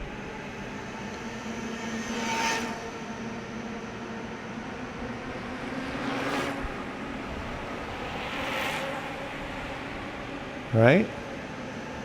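Bafang M600 mid-drive e-bike motor whirring steadily at close range with a broad, airy drone that swells in three brief surges, followed by a short spoken word near the end.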